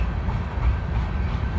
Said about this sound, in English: this train starts coming right through.